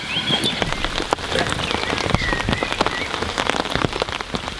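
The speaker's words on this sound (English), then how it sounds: "the rain's well and truly sitting now" Heavy rain lashes down steadily beside a lake at a carp-fishing venue in France, a dense close patter of drops striking surfaces with no voices present.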